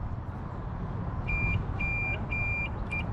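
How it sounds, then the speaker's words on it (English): Reversing beeper on a 1993 Honda Civic Si hatchback: four evenly spaced, high, steady electronic beeps over a low outdoor rumble. "We are beeping. You guys can hear it."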